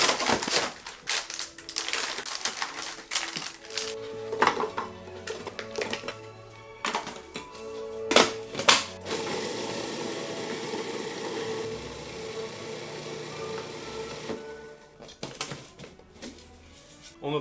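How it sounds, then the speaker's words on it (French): Store-bought biscuits are blitzed into fine powder in a kitchen food processor for a no-bake Christmas log cake, with loud irregular bursts of whirring and crunching, short pulses at first and then a longer continuous run. "Là, on va commencer par mixer nos biscuits."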